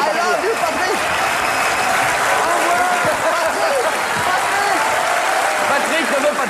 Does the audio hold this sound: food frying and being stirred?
no